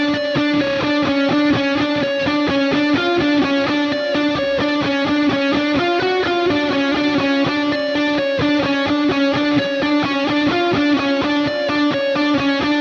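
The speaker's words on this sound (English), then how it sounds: "Next up, we're going to talk about the lead guitar tone." Distorted lead electric guitar from a 2020 Schecter Blackjack seven-string played through a Neural DSP Archetype Plini amp plugin, a steady, continuous melodic line with sustained notes and even loudness throughout, no voices.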